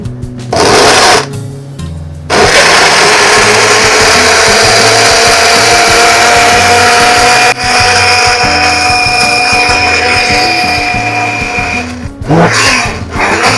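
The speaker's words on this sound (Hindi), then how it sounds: "अब हम इसको करेंगे थोड़ा सा ग्राइंड।" Electric blender grinding thick mango puree with a scoop of mango ice cream, a loud steady whirring motor running almost continuously, broken by two short pauses and a brief stop near the end, with no talk.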